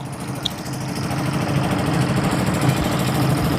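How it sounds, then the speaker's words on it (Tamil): A steady low fishing boat engine drone runs throughout, rumbling and even, with no voices present. "ரொம்ப இன்ஜின் சத்தம் மட்டும் அதிகமாக கேட்கும்"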